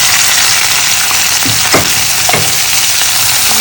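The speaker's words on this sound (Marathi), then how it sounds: "मी आता कांदा घालते।" Onion hits hot oil with browned crushed garlic for a Malvani-style bhaji, producing a loud, steady sizzle that fills the scene, with a few soft stirring scrapes partway through and no voices.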